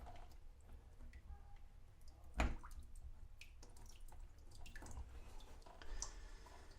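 Faint, slow drips of water fall irregularly from plumbing during a thermostatic mixer shower replacement, against a low background hum, with one louder splash-like tap partway through.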